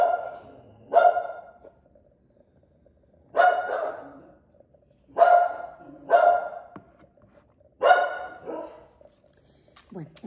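A small female dog barks close by in repeated bursts of one or two sharp barks separated by short pauses, with a few softer yips between them.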